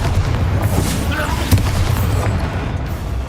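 Booming blast of the Confringo fire spell in Hogwarts Legacy, a deep rumbling explosion with a sharp burst midway, amid combat noise.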